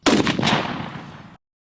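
A single loud shotgun blast from a Mossberg 940 Pro turkey gun fired at a turkey target 60 yards away outdoors, a sharp close report with a decaying roar that cuts off after about a second, with no talking.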